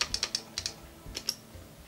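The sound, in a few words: clicking while typing on a keyboard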